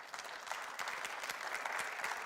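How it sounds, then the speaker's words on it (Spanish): A church congregation breaks into applause: a dense, steady patter of many hands clapping, fairly soft and somewhat distant, lasting throughout. "Yo le doy un aplauso a Dios por eso."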